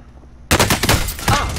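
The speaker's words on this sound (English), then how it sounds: "They're shooting through wall?" Rapid bursts of gunfire punching through a wall in a Plunder battle-royale video game, starting abruptly after a quiet moment and rattling loudly in close, overlapping volleys.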